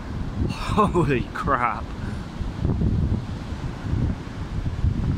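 Strong Storm Dennis wind buffets and roars across the microphone in continuous gusts, with a man's exclamation near the start.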